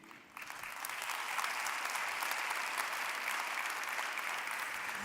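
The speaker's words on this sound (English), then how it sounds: "They couldn't wait to applaud for you." An audience at an energy and climate forum in a conference hall claps, a dense, even sheet of applause that starts suddenly and carries on steadily at a moderate distance, without talk.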